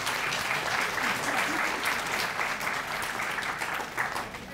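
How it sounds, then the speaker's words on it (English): An audience at a 2019 law school orientation applauds, steady sustained clapping from a crowd filling the room at a moderate level from start to finish. "Give them a round of applause."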